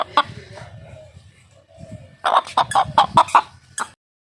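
Home-raised country chickens cluck close by in a rural yard, with a few soft calls early on followed by a loud, rapid run of clucks near the end.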